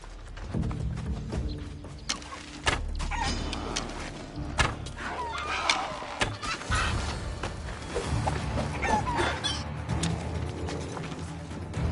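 Chickens cluck and squawk in Assassin's Creed Odyssey, a scatter of close, irregular clucks mixed with thumps, footsteps and other ambient game sounds over a steady background.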